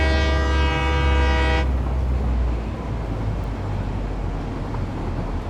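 A train from the Satisfactory video game rolls past with a sustained horn-like tone over a deep rumble, the tone cutting off midway while the heavy rolling noise carries on alone.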